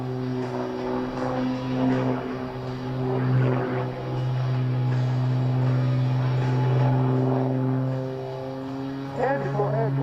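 Rob Holland's aerobatic airplane performing the Cobra maneuver at an airshow in Geneseo, New York, a loud droning engine with a strong steady hum that swells and shifts in pitch as the plane maneuvers overhead.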